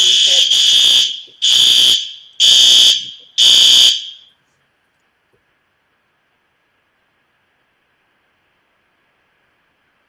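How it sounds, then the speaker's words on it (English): A fire alarm in a lecture setting blares four loud, harsh electronic pulses in a regular rhythm, then stops, leaving near silence. "All right, sorry, fire alarm again."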